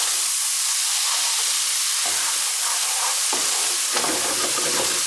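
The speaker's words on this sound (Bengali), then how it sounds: "এই মশলাটাকে এখন আমি 2-3 মিনিট এভাবে ভাজতে দেব" Spices with curry powder fry in a pan for a fish bhuna, giving a steady loud sizzle and hiss, broken by a few bursts of stirring, with no voices.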